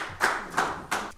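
Audience applause welcoming a sijo poet to the podium at a Honam history academy lecture, heard as three short bursts of clapping, close and moderately loud, with no voices.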